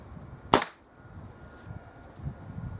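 Kral NP02 air gun firing a single sharp shot at a target, a loud crisp crack followed by near silence with faint background noise.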